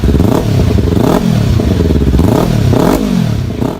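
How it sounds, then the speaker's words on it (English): Kawasaki Versys-X 300, a small-displacement adventure motorcycle, roars with a loud, continuous engine note that rises and falls through several repeated revving sweeps, with no talking. "Number 10, the Kawasaki Versys-X"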